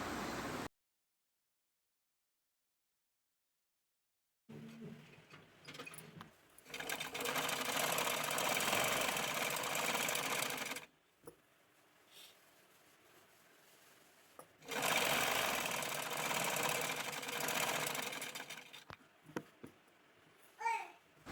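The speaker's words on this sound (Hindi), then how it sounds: "अब हम इन्हें स्टिच करेंगे। आसन की साइड तक स्टिच करेंगे" Sewing machine stitching palazzo trouser fabric, two long bursts of fast whirring separated by pauses with quiet handling sounds and faint background noise.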